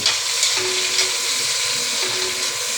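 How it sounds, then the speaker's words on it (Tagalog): Chopped tomatoes sautéing in a hot pan, giving a bright, close, continuous sizzle with soft stirring scrapes throughout and no voices. "Gisa-gisa lang po tayo."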